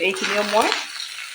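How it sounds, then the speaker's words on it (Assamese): Ginger garlic paste and onions fry in hot oil, a loud close sizzle with stirring, while a voice speaks briefly over the start. "আদা নহৰু আৰু পিঁয়াজখিনি মই ভালদৰে ভাজি ল'লোঁ"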